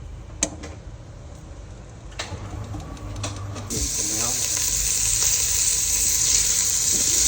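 Beef papaitan cooking in a Ninja Foodi multi-cooker, with a steady close sizzling and frying hiss that grows louder and fills the second half, plus a few clinks and faint voices early on.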